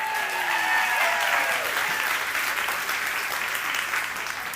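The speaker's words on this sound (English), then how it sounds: "Give Michelle a big round of applause" Sustained audience applause fills the room at a steady, loud level at a live psychology and mind-reading show, with a few whistles or tonal streaks early on and no speech over it.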